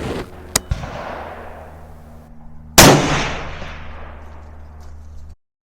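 A Ruger American Predator rifle fired outdoors at a 200-yard steel target, one loud sharp report followed by a long fading rumble, with faint clicks and handling noise before the shot.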